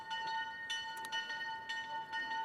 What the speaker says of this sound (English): The bells are ringing as we tell our story.